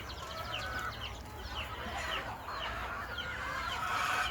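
Green-egg and bearded white silkie chickens cluck and chatter inside a coop, with several birds calling at once in an overlapping, moderately close flock sound and low background hum beneath.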